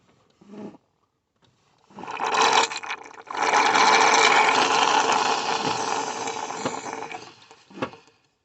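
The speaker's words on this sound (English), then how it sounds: "The vacuum extraction pump here." A close vacuum oil extraction pump sucking oil from a Mercedes ML 350 V6 CDi whirs and hisses loudly for several seconds, with brief starts and stops and some clanks around it.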